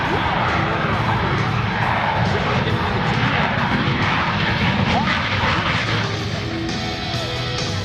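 Shockwave jet truck firing its afterburners on a race run at the Joint Base Andrews air show, a loud, continuous roar of jet engines that fills the whole stretch, with crowd noise and an announcer's voice beneath.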